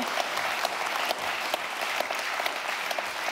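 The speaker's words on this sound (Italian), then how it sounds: "Non ho capito perché fa applaudito." Studio audience applause during an Italian talk show, dense continuous clapping at an even level for the whole stretch, with no voices standing out.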